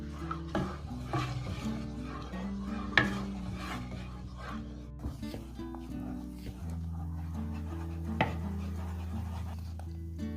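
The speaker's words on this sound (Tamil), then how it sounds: "இந்த கரைச்சி வச்சுக்கிற கஸ்டர்ட்டை இந்த மாதிரி காய்ச்சி எடுக்கிறேன்" Custard is stirred in a pan over a low flame as it cooks for a chocolate custard pudding, with steady scraping and rubbing strokes and a couple of louder knocks against the pan, set over a constant low hum.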